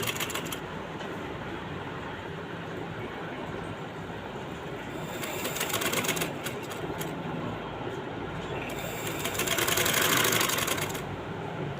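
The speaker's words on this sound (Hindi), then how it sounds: "एक पाँव की सिलाई लगा रही हूँ मैं" A sewing machine stitches a seam on a simple kameez, running as a steady fast mechanical whir that rises slightly in loudness near the end, close and continuous with no talking.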